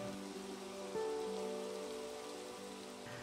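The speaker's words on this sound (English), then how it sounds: "I don't wanna be in the dark rain anymore." Steady rain pours down in the video game Minecraft, a constant even hiss of falling drops with low tonal game music underneath, no voices.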